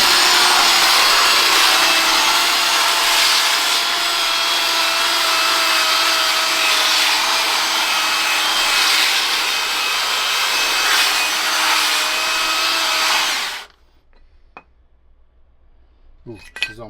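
A Makita 40V GSB01Z belt sander grinds across a shower curb with a steady, loud abrasive whir for about thirteen seconds, then shuts off, leaving near silence and a few faint knocks.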